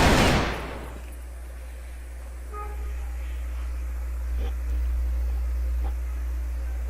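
A single sharp burst of AK-47 fire from the video game Crossfire opens the moment, then fades into a low, steady electronic hum with faint scattered game sounds.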